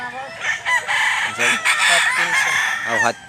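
A gamefowl rooster of the Boston Japon line crows loudly and close by, several harmonic calls stacked across about three seconds, with some clucking among them and no talk.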